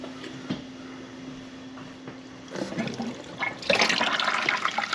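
Water rinses through a DIY macroalgae reactor for a Biocube 32 aquarium, a quiet trickle at first that swells into a louder, steady splashing rush over the last seconds.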